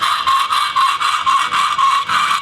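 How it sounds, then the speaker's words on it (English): Hand file cross filing metal, a harsh rasping screech repeated in steady strokes about three per second, loud and close with no voices. "Cross filing is going to annoy everybody around you."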